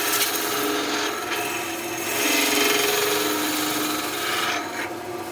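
A skew chisel makes a planing cut on wood spinning on a lathe, giving a steady, close rasping hiss that swells and eases as the tool moves along the piece.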